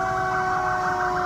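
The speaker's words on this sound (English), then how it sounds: "sirens blasted to lead South Laurel seniors on a celebration" Emergency vehicle sirens blast loud and steady, leading a graduation celebration parade for South Laurel High School seniors, with a continuous, close wail and no talk.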